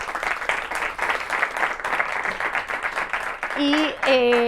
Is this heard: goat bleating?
no